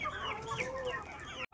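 Chickens cluck up close at a poultry farm, a quick burst of overlapping squawks and clucks that cuts off abruptly at the end.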